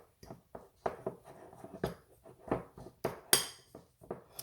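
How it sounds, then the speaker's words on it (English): A fork stirring melted butter into a keto tuna casserole in a dish, producing close, irregular clinks and scrapes of metal against the dish, one brighter knock near the end. "Now I'm gonna use my fork and just go around and get it all incorporated."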